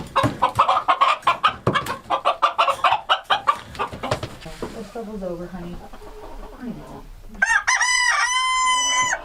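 An Icelandic rooster crows loudly and close by near the end, with harmonic calls, after a stretch of clucking and someone talking over bird sounds.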